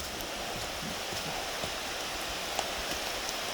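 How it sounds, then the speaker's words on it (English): Rain falling at Seven Bridges park in Cudahy, Wisconsin, a steady, even hiss of drops on leaves and ground with a few faint louder patters. "Seven Bridges in the rain."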